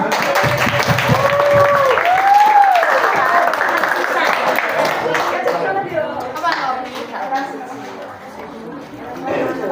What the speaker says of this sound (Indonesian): Baik, tepuk tangan buat Kak Afan.